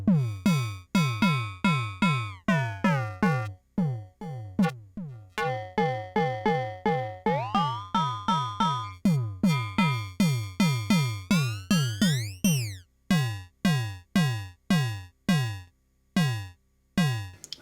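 Percussive synthesizer tom hits run through ring modulation, repeating in a fast, steady stream of short decaying notes with shifting metallic overtones and a brief upward pitch sweep near the end, loud and alone without talk.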